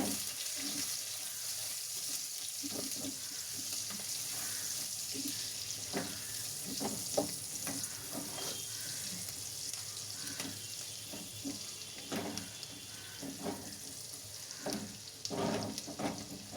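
Cubed onions sizzle in a pan with lightly browned garlic over medium-low heat, a steady hiss running throughout with scattered clicks and scrapes of stirring, close and moderately quiet.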